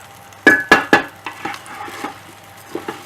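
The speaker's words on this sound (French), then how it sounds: "On mélange." A spoon stirs chicken marinade with curry in a pan, making three loud scraping strokes followed by softer, irregular scrapes and clinks close by, with no talking.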